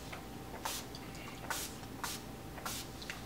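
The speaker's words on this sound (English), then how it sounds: "I'm going to spray this on my face," Short bursts of oil-free facial setting spray misting from a pump bottle onto a face, four quick airy hisses spaced about a second apart, close and fairly faint over a quiet room.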